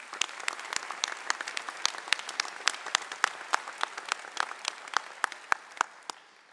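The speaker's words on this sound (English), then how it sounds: "Please join me as we applaud their support of and dedication to the success of our students." Crisp audience applause at a university doctoral hooding commencement ceremony honoring staff, individual sharp claps standing out in a steady rhythm from a moderately sized crowd, fairly close and ongoing.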